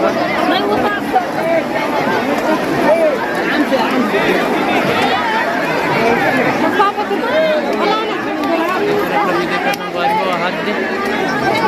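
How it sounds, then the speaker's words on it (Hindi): A huge crowd packs the banks of Pendri pond, their dense, continuous babble of overlapping voices filling the air loudly and evenly, with no single voice standing out. "ये देखा और भीड़ बहुत ज़्यादा है"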